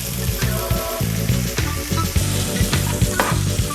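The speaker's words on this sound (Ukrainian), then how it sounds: "Кукуруза з маслом на досить сильному вогні повинна смажитися орієнтовно 2 хвилини" Corn sizzles steadily in hot butter in a pan, with soft stirring knocks and quiet background music.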